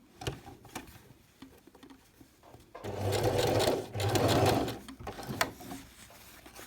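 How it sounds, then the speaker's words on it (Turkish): A sewing machine stitches a pleated fabric cuff, running in two close, steady bursts of rapid whirring, with quieter handling clicks and fabric rustle before and after. "kontrollü bir şekilde dikmeye devam edin. Pileler açılmasın bu arada."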